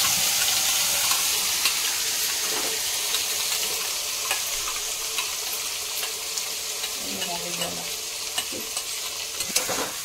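Whole spices and Kashmiri chili powder fry in a pan for kabuli chana ghugni, giving a loud, steady sizzle with occasional stirring scrapes and clinks throughout, and no voices.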